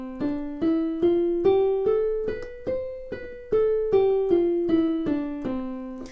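Piano notes played loudly with finger strength alone, about fifteen evenly spaced struck tones stepping up and then back down a scale, each ringing briefly before the next, close and clear with no voices.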